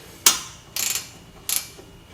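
A hand ratchet tightening a bolt while replacing the suspension on a 5.0 Mercury Mountaineer, heard as three short bursts of rapid close clicking separated by pauses, with a faint final tick.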